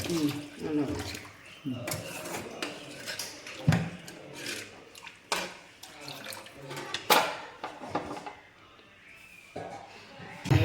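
Water poured into a pan of Kerala fish curry made with kera fish and fenugreek powder, splashing among clattering utensil knocks while a person talks throughout.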